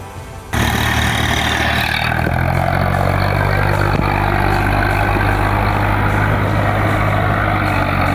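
A tractor engine stuck in mud roars steadily and loudly after a sudden start, droning under strain with a constant low rumble as the machine inches forward.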